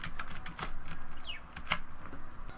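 Keys clacking on a computer keyboard, ending with the Enter key pressed, a few close, sharp taps spread over a quiet room background.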